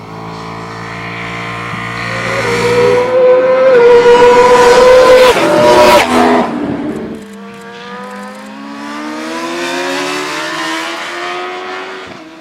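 Superbikes on racing tyres circle the Alcaraz circuit, loud high-revving engines climbing through gears with a close pass and a falling pitch, then another bike winding up again.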